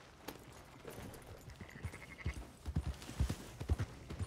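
Horse hooves clip-clopping at an uneven walking pace in Red Dead Redemption 2, getting louder toward the end, with a faint tone in the background.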